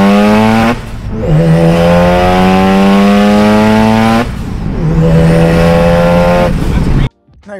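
Turbocharged Mazda RX-7 rotary running about 17–18 psi of boost on race gas, loud steady pulls with rising engine harmonics, two long climbing runs broken by short gear changes, then cutting off abruptly near the end.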